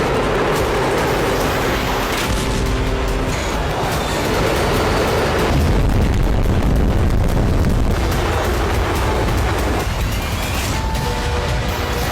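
Cluster bomb explosions in Ukraine war footage, dense rumbling booms and crackling blasts that roll on continuously and loudly, layered into a sustained roar.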